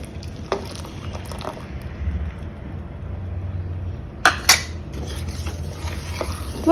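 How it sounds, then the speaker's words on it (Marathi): Custard-thickened milk stirred in a pot of boiled, sugared milk for an almond shake, a steady low scraping with a few sharp utensil clinks against the pot near the end. "आता आपण हे कस्टर्ड मिळवलेलं दूध त्यामध्ये मिक्स करूया"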